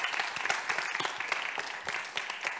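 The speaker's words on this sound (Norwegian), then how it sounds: "Gi henne en applaus mens hun staker veien nedover" Studio audience applauding a volunteer as she walks down to the stage, a brief, even burst of many hands clapping at moderate volume.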